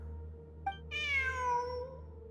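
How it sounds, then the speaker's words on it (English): A single drawn-out meow from a cat in the video game Genshin Impact, close and clear, rising then falling over about a second, preceded by a tiny click over a low steady background hum. "Look! A cat!"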